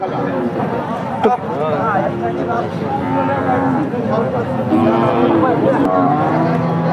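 Sahiwal and Sindhi breed cows and calves moo loudly and repeatedly nearby, with people talking throughout.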